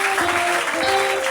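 A church congregation applauds in a sustained burst of clapping that fills the space, with a sustained musical tone ringing underneath.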